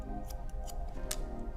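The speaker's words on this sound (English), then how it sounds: "Just want to nip these ends." Scissors snipping the ends of long, layered shag-cut hair in a salon, a few crisp, close metallic snips in quick succession over a low steady background, with no talking.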